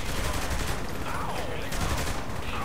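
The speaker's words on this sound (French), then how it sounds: "Ou même une mitraillette, regardez." Submachine gun fire in the Saints Row 3 video game, a dense rattle of shots over a steady game soundscape lasting a couple of seconds, with a voice faintly audible underneath.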